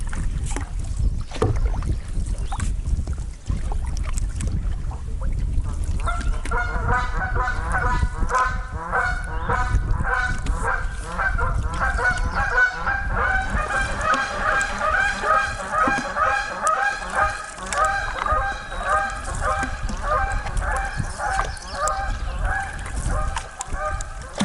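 Two geese honk in a repeated, close cackling run on a small river during a canoe trip, starting after a few seconds and carrying on over wind and water noise, with no voices.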